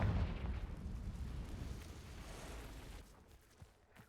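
A Confringo fire spell explodes in the Hogwarts Legacy video game, a loud, booming blast that starts strong and rumbles and crackles away over about three seconds before dropping to a faint tail.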